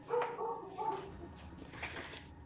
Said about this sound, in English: Hopefully that muted the dog a little bit.